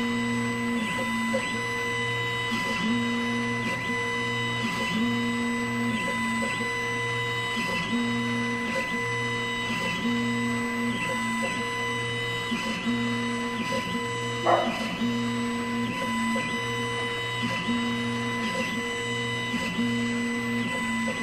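A Neje laser engraver etches tweeter foils with a steady electronic hum and a regular repeating pulse about every two seconds, fairly close, with one short click partway through and no talk over it.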